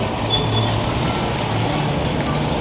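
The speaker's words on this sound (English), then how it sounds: "Another big lorry." A big lorry rolls past during a Christmas charity tractor run, its engine a steady low rumble with continuous road noise throughout, fairly close and loud.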